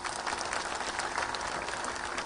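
Audience at a large community rally clapping loudly and continuously, a dense wash of applause filling the whole moment without a break.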